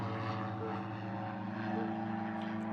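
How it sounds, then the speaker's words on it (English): A Diamond DA62 propeller plane flies past a windy airport on a steady, fairly quiet engine drone with a propeller hum, heard alone at a moderate distance. "Not much noise from that little prop plane as I thought it was going to be fair."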